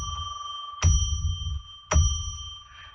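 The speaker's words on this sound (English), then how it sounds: "I'm going to ring a bell 3 times to declare sacred space." A small bell is struck three times in a quiet room, each clear metallic ring sustaining with steady overtones and slowly fading before the next strike.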